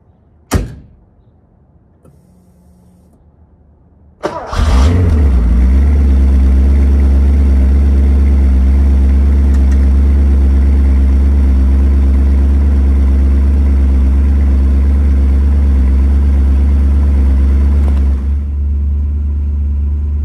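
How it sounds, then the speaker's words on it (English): A 1981 Porsche 928 with a five-speed is cold-started: a click, a short cranking moment, then the engine catches and settles into a loud, steady, deep idle close by that carries on unbroken. "you can listen to the sounds of the engine and warming up"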